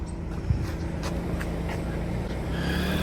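A car manoeuvring slowly out of a house yard, a low steady engine rumble close by, with faint background noise and no talk.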